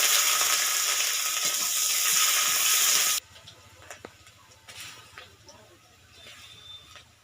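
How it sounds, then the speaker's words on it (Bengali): Chopped onion dropped into hot oil with panch phoron while cooking a fish-head muri ghonto: a loud, dense, steady sizzle for about three seconds that cuts off abruptly, followed by quieter clatter and talk. "এবার কুচিয়ে রাখা পেঁয়াজটা দিয়ে দিচ্ছি।"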